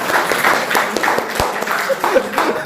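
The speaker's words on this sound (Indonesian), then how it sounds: "Tepuk tangan untuk Mas Marifin" Classroom applause for a participant at a teacher training session, a short burst of clapping from a small group, close and fairly loud, with voices mixed in.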